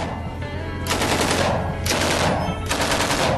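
A gun firing once the trigger is pulled, heard as three sustained bursts of loud rapid automatic fire with short gaps between them, close and dominant.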